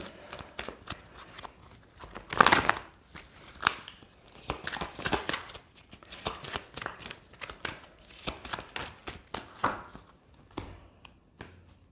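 Tarot cards are shuffled and drawn in a close, dry burst of riffling and slapping followed by scattered shorter card flicks and taps.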